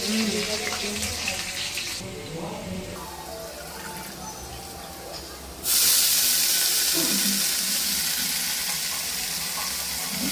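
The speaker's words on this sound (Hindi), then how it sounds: "लहसुन और हरी मिर्च का तड़का लगा दिया है" A loud, steady sizzle of garlic and green chillies tempering in hot oil, rising sharply partway through and continuing as a constant hiss.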